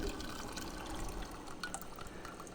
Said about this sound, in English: So I pour it out again.